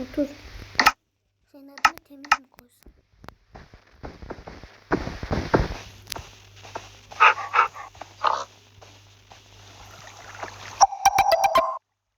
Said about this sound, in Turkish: Oy bir tane köpek.